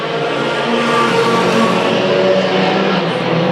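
Race cars roar around Madera Speedway in a loud, continuous engine drone that holds steady throughout, dense and close with no gaps.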